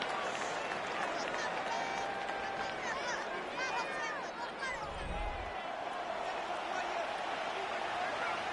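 A football stadium crowd roars as play reaches third down. The cheering forms a broad, continuous wash heard from a distance, with a commentator speaking over it and a short low thump midway.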